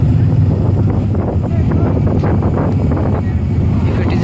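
Strong wind gusting at sea at night during a food provision transfer in bad weather, a loud, steady roar of wind buffeting the microphone with broadband rushing noise throughout.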